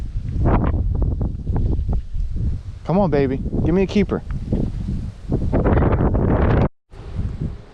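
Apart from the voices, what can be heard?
wind gusts while fishing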